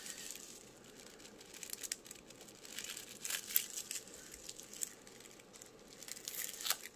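Shrink wrap and tape being cut and peeled from a diamond painting canvas give steady close crinkling and tearing rustles, with a few sharper crackles standing out from the soft, continuous handling noise.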